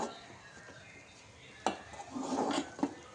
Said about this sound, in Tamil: உருண்டை உருட்டுற அளவுக்கு நம்ம இதை வந்து கிண்டி எடுத்துக்கணும்